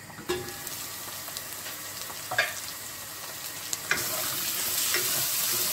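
A lamb chop curry mixture sizzles and fries in a pan while a spoon stirs it, giving a steady frying hiss broken by a few sharp scrapes and clinks, close and moderately quiet.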